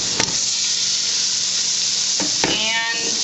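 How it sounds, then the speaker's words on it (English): Onions sautéing in canola oil in a pot, a loud, steady hiss close up, broken by a couple of stirring scrapes. "I'm going to saute the onions"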